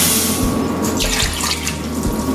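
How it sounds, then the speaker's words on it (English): Water runs steadily from a tap into a cooking pot, a continuous full rushing stream as nine cups are added for chicken chili with beans, with no talking. "9 cups of water."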